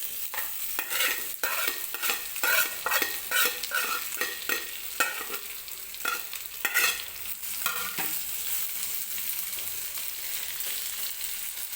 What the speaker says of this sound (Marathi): बटाटा व्यवस्थित तेलामध्ये परतून घ्यायचा आहे